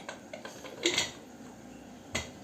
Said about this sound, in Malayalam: അപ്പോൾ നമുക്ക് കുക്കറൊന്ന് അടച്ച് ലോക്ക് ചെയ്യാം